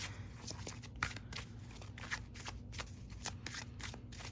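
Seasons of the Witch Beltane Oracle cards being shuffled by hand, a steady run of soft riffling bursts and flutters repeating every half second or so, close and fairly quiet over a low background hum.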